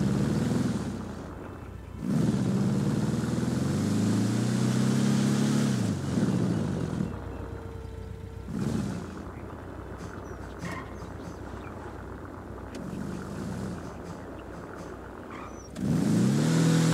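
A car engine in the GTA 5 video game revs steadily and loudly while climbing a narrow stunt parkour ramp, with surges in pitch and a few brief dips, continuous throughout with no talk.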